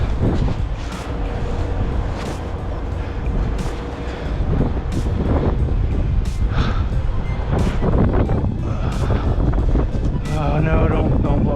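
Loud, steady wind buffets an outdoor microphone, a continuous rumbling roar with gusty swells and a few sharp rustling bursts throughout.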